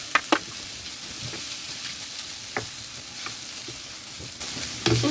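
Pre-cooked chicken is added to softened vegetables in a hot pan for a kabab cutlet recipe, giving a steady, close sizzle with scattered stirring scrapes and clinks.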